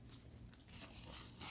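Biting into a fried deviled egg, a few close, soft crunches of the crisp coating followed by quiet chewing.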